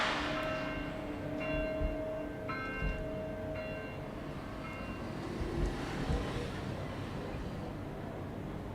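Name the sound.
church bell ringing in a video game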